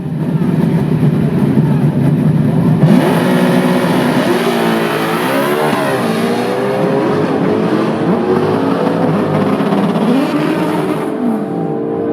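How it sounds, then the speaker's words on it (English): Drag race at an import-versus-domestic event: an Acura Integra runs against a Chevrolet Camaro. Loud, continuous engine roar throughout, with rising and falling revs as the cars accelerate down the strip. "Ade in the Integra taking on Hackleton in the Camaro."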